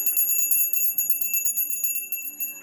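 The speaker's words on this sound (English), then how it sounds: "so let's ring our bell" A small bell rung to open a tarot reading, rapid repeated bright chimes with a sustained metallic ring, close and clear with no talking.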